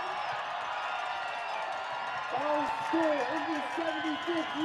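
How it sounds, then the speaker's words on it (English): A soccer crowd at a Chattanooga Red Wolves SC match roars steadily after a long-range goal by number 15, a broad, distant wash of cheering with a few louder shouts rising near the end. "And you hear the elation in the crowd."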